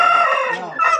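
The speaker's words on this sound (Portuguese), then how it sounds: "Esse que galo é esse aí, velho?" A rooster crows loudly and close by, a bright, strained call that wavers and dips briefly before surging again at the end.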